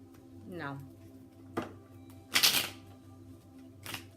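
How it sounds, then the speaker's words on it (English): Tarot cards being shuffled in short riffling bursts, with a few soft taps and a brief vocal sound near the start. "Oh, goodness, hard to shuffle here."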